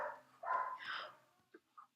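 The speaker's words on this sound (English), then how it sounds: "what with the huge loud dog in the background" A big, loud dog barks indoors in the background during an art stream, a couple of drawn-out barks followed by two short, quieter yelps.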